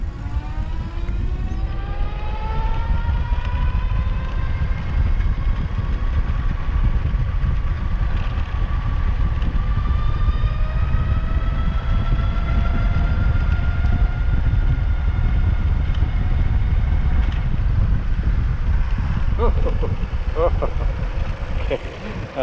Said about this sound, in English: let's go ahead and give it some guts and see how fast we can get on the throttle